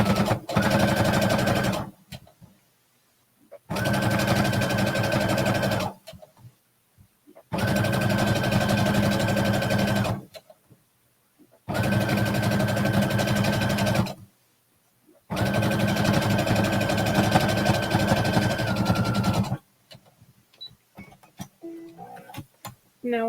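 A sewing machine stitching a seam runs in four long bursts of rapid steady whirring and ticking, each lasting a few seconds, separated by short silences, close and loud, with faint handling sounds at the end.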